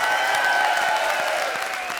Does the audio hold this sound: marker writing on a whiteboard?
no